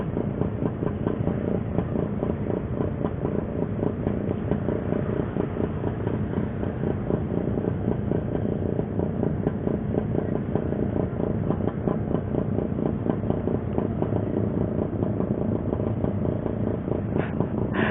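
A motorcycle engine runs steadily and close, a rough, even rumble with slight throttle swells throughout, no voices.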